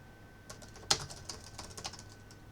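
Light computer keyboard typing in a short, irregular burst, one sharper key strike standing out among soft, close clicks in a quiet room.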